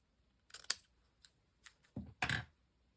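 Scissors cutting paper while decorating a mini shabby chic junk journal, heard as a few sharp, close snips spaced across a quiet background.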